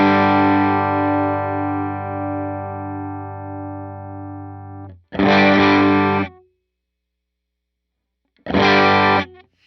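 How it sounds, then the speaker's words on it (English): Distorted electric guitar chord played through an HX Stomp amp preset with bias X raised, one long ringing strum fading out over about five seconds, then two short loud chord stabs separated by silence. "I'm going to hit the chord and then drag that over and see what 10 sounds like"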